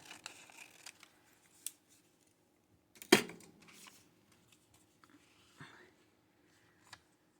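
Scissors snip through paper for a junk journal, a few sparse, quiet cuts with one sharper, louder snip in the middle and long pauses between.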